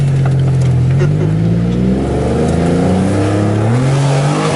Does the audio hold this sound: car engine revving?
yes